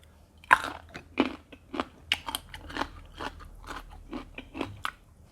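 Someone bites and chews crunchy, sour unripe mango up close, with a quick run of sharp crunchy bites and wet chewing, each crunch loud and distinct, no talking.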